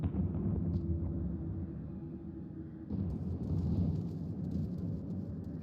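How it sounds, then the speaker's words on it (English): Thunder in the video game Final Fantasy XIV rolls as a low, continuous rumble with a rain-like hiss, swelling louder partway through, with no voices. "What unseen lightning begets such thunderous report?"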